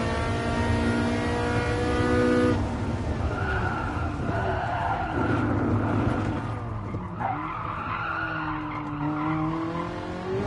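Ferrari race car braking hard in the Gran Turismo Sport racing game, tyres skidding and squealing over a loud, steady engine drone that shifts pitch midway; no talking.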